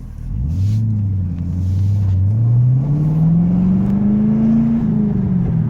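A fifth-generation Chevrolet Camaro with a V6-to-V8 swap and manual clutch drives past close and loud, its deep engine rumble climbing steadily in pitch as it accelerates, then easing off at the end.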